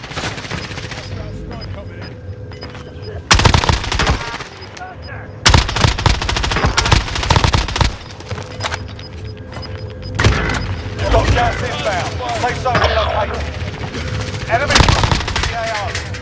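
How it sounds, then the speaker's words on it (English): Loud video game gunfire, with rapid machine-gun bursts and single shots in irregular volleys over background game noise, while players talk in between. "are they shooting me, bro?"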